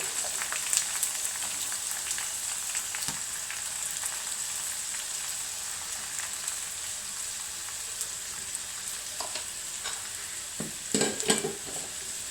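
Chillies fry in hot oil for an irumbanpuli (bilimbi) pickle, a soft continuous sizzle with scattered crackles and a few louder pops and spoon taps toward the end.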